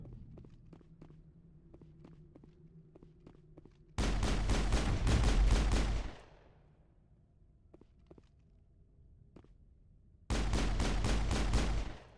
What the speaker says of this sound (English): Die! I shoot you in the head.